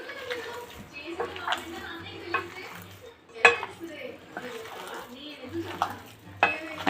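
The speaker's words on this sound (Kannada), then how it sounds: "ಎಲ್ಲ ಸೇರಿಸಿ ಕಲಿಸ್ಕೊಂಬಿಡೋಣ" Mutton kaima vada ingredients being mixed in a bowl make close, uneven squelching and scraping, with several distinct clinks and knocks of utensil against the bowl and a few soft murmurs in the background.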